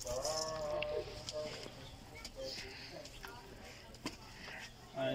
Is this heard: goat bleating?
yes